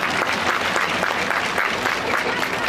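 A crowd claps throughout after announcements at a political rally, a dense, continuous wash of applause that stays loud and even from start to finish.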